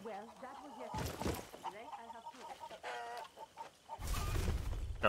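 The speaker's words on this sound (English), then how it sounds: "Got the rooster." A rooster crows and clucks in the video game Far Cry 6, several close, loud bursts over ambient game sound, with someone talking in between.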